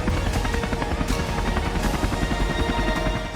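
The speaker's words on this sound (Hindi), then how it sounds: "हेलीकॉप्टर उड़ान भर रहे हैं" Helicopter flying close by, its rotor chopping in a fast, steady throb that stays loud and alone throughout.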